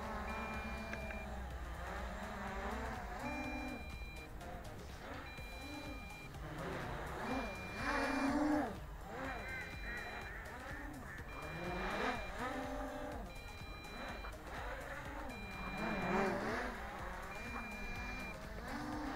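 An MJX Bugs 3 brushless quadcopter drone flies with a steady, wavering motor whine that rises and falls in pitch as it manoeuvres, staying fairly close and continuous throughout.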